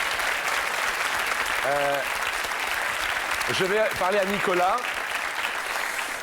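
A television game show studio audience keeps up steady, dense applause throughout, and a voice speaks briefly over the clapping in the middle.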